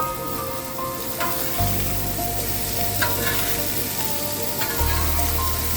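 Ribeye steaks sizzle loudly in a hot pan right after being flipped, a steady dense frying hiss that swells in bursts as the meat hits the surface, with faint clinks of utensils.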